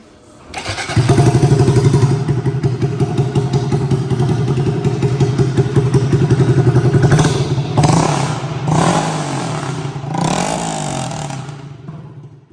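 A 2022 Honda Grom motorcycle fitted with a new exhaust fires up and settles into a loud, steady, close-range idle, with a couple of sharp throttle blips near the end and no voices.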